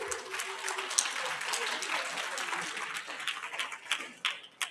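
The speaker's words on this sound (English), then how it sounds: "let's give her a round of applause" A round of applause from a conference audience, moderate clapping that thins into scattered individual claps toward the end, with some talking mixed in.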